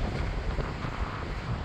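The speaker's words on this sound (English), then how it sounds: "I can hear the motor spooling up more." A DIY twin-hull mono RC boat's electric motor spools up out on the water, a dense broadband rush heavily mixed with wind buffeting the microphone, steady and loud throughout.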